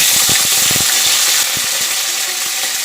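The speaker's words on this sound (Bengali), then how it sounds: "কড়াইতে তেল দিয়ে তেলটা গরম হয়ে গেলে আমি সিমগুলো দিয়ে দেবো" Flat country beans hit hot oil in a wok with a loud, dense sizzle that starts at once and keeps crackling steadily, a few sharp spits and clatters near the start, then cuts off abruptly.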